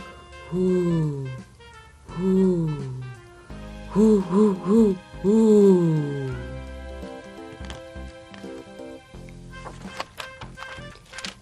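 A great horned owl call imitated by a voice reading a bedtime story aloud, given as several drawn-out hooting phrases, one short stuttered run of hoots among them, loud and close, followed by a few faint scattered sounds.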